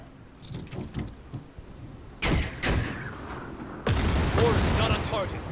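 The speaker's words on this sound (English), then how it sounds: "We can drop a mortar." A mortar round impacts in the World War II strategy game Headquarters: World War II, with heavy broadband booms landing at about two and four seconds amid ongoing battlefield rumble and scattered clatter.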